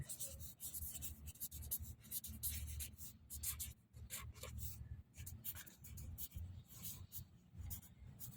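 A pen scratches steadily across paper while handwriting, faint close strokes in short irregular bursts over a low background hum, with no talking.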